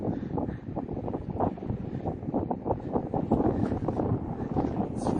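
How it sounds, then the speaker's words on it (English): Strong gusty wind on the exposed summit of Humphreys Peak roars into the microphone, a loud continuous buffeting rumble that swells and fades throughout. "It's very windy up here."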